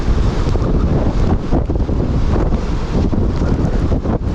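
Strong storm wind roars steadily across a rider on a Kawasaki Ninja motorcycle, a loud, continuous buffeting rush with no break from start to finish.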